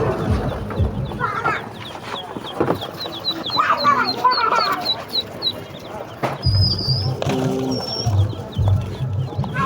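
A crowd of native ducklings for sale makes busy, high peeping and chattering calls, fairly close and continuous, mixed with people talking and some clucking farm fowl nearby.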